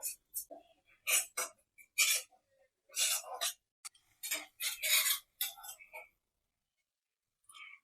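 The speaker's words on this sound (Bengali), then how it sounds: "এই মশলাটা আমি ভালো করে কষিয়ে নেব" A spatula scrapes and clinks against a pan as masala is stirred and sautéed over low to medium gas heat for a Bengali prawn dish. The strokes are quick and irregular and come in uneven clusters.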